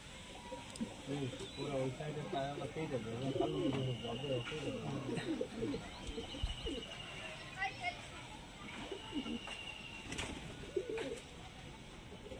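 Pigeons coo repeatedly at close range while a person talks over them throughout, with other bird calls mixed in.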